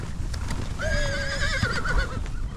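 A horse whinnies loudly and at length with a quavering, wavering call, set against steady ambient noise and low thumps that may be hooves, during a horse drive in the American West.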